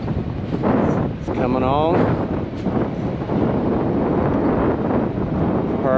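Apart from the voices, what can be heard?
wind blowing outdoors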